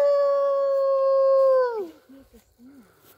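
Dogs howl during a total solar eclipse in Murphysboro, Illinois, one steady, drawn-out howl held loud and close for nearly two seconds before it slides downward and breaks into brief, quieter yips.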